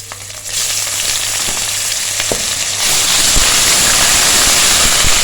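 Ginger garlic paste sizzles as it hits golden fried onions in a pan for a mixed vegetable handi, giving a loud, continuous frying hiss that grows stronger partway through, with a few clinks of stirring.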